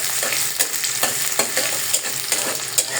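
Onion frying in hot oil for a potato bhaji, a dense close sizzle with quick rhythmic spatula scrapes cutting through every few tenths of a second.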